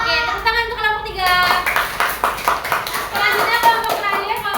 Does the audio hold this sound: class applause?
yes